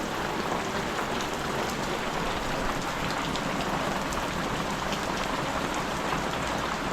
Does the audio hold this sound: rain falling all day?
yes